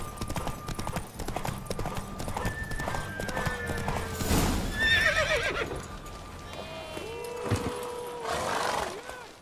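A horse gallops with rapid hoof clip-clops in The Witcher 3 and whinnies loudly partway through, while voices talk over the galloping during a race.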